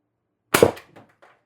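A single sharp shot from an MR TR50 Torpedo HPA air rifle fitted with an upgraded firing pin and bolt spring and running on 800 psi air, a close crisp crack that quickly dies away, followed by faint mechanical clicks.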